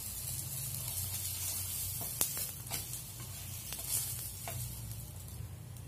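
An egg bread omelette roasts in a hot pan with a soft, steady sizzle over a low hum. A few faint clicks and pops break through the sizzle.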